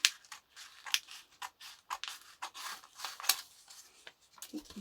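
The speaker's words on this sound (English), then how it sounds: "So I'm going to trim off the excess vellum." Excess vellum being trimmed from a handmade journal cover: quiet, close snips and rustling cuts in a quick, uneven series.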